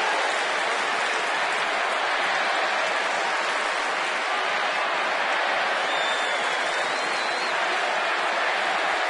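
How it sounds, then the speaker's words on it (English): Dense, roaring crowd noise at a Phillies–Nationals baseball game, with Phillies fans chanting and Nationals fans booing, a sustained wash of voices that fills the whole stretch without a break. "Phillies fans chanting, Nationals fans booing."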